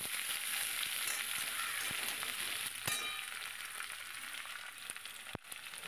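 Thinly sliced potato is dropped into a pan of hot oil and fries with a dense, hissing sizzle. A few faint clinks of a utensil sound over it, and no one speaks.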